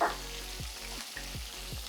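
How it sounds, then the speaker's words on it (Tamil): Hot oil sizzles and crackles steadily as curry leaves fry in a pan, with a few soft stirring scrapes and no voices. "கருவேப்பிலை நல்லா பொரிந்து இதில் இருக்கக்கூடிய மனம் வெளியே வந்ததன் பிறகு"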